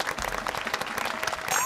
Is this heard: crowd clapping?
yes